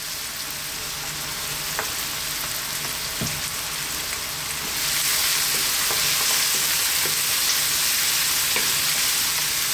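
Chili flakes, thyme, black pepper and salt frying in a pan, a dense steady hiss of oil that swells louder halfway through, with occasional light taps of a stirring utensil.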